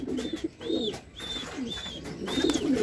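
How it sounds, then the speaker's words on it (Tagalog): Young racing pigeons cooing after a sprint derby race, a series of five soft, repeated coos in steady rhythm at close range, with low rustling and faint background noise. "So si Brown, ito yung ating young bird na pang south mga kalapatids."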